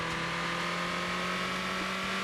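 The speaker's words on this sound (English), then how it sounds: "it's a high revving truck. That is a high revving truck." A truck engine in a video game revs high and loud with a steady, droning whine that fills the whole clip without letting up.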